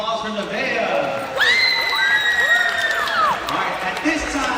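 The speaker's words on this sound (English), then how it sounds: "one more round of applause for Nevaeh" Crowd applause and cheering for a student athlete at a high school college signing day, steady clapping with whoops and shouts rising midway, sustained throughout.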